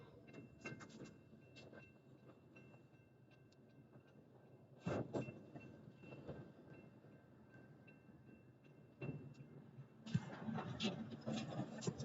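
A slow northbound Union Pacific intermodal freight train rolls past at a road crossing, a steady low rumble with rhythmic clanks and louder bursts as cars go by, brief voices faint beneath.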